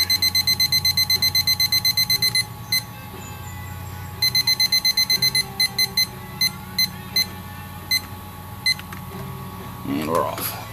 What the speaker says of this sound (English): So I'm gonna set my timer for 60 minutes.